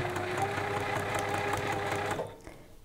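A sewing machine runs a continuous, close, rapid stitching hum through fabric for about two seconds before stopping abruptly, leaving a quiet room.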